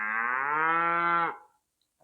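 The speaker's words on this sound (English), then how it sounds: "And that's Daisy May mooing because she wants her breakfast" A cow on a farm lets out one loud, close, drawn-out moo lasting over a second, followed by near silence and the start of another sound.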